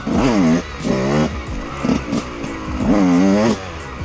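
Yamaha 125 YZ two-stroke motocross bike revs hard in first gear, rising and falling in sharp bursts as the front wheel lifts, with quick throttle blips between the louder pulls, close and loud.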